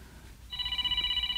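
A cellphone rings in a quiet room with a steady electronic tone that starts suddenly and continues. No one talks over it.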